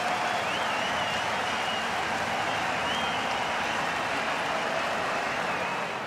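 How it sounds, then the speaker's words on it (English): Applause from a stadium crowd after a France versus Tonga pool match at the 2019 Rugby World Cup, a dense, steady wash of clapping and cheering that continues without a break and carries no clear voices. "Much of the applause you hear around the stadium is for Tonga"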